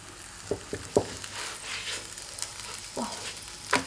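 Homemade layered flatbread made from flour and water fries in a little oil in a pan, a steady soft sizzle broken by several sharp clicks and scrapes from a turner flipping it.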